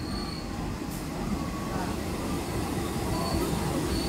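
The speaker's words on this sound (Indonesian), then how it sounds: "kereta api Bangun Karta nih teman-teman," Bangun Karta passenger train from Jombang at a busy Jakarta station at night, a steady loud rumble of rolling stock with faint high squeals, continuous over the whole stretch.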